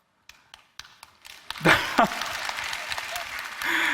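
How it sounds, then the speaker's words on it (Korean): Applause from a congregation at a prayer meeting begins as a few isolated claps, then swells into broad, sustained clapping from the crowd, with a voice briefly heard near the end. "박수를 이렇게 자주 받을지 몰랐는데"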